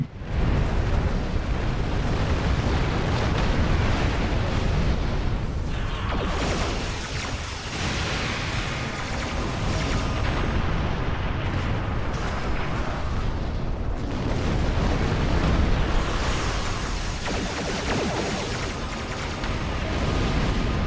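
Explosions from torpedoes and a dilithium burn in the space combat game Star Trek Online roll on continuously, heavy booms and rumbling blasts layered over one another at full loudness for the whole span, with no voice.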